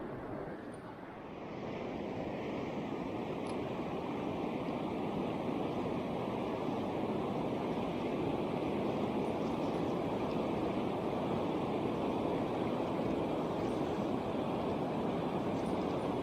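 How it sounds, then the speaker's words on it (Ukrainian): Steady broadband roar of wind with a rushing, rain-like hiss, constant and fairly loud throughout after a brief quieter start, outdoors by the water on a winter spinning-rod fishing trip. "погода міняється вже, вітер піднімається і дощ падає"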